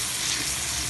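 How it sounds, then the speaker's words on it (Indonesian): Padang-style red chili sambal frying in plenty of oil as it is stirred, a close, even sizzle and crackle without speech. "Ini sambalnya kita aduk-aduk terus ya, jangan sampai gosong di bawahnya."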